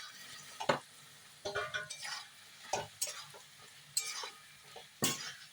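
Potatoes and pointed gourd stirred and sautéed in a spice paste for a mung dal rasa, with soft sizzling under repeated scraping strokes of a spatula against the pan, close and moderately quiet.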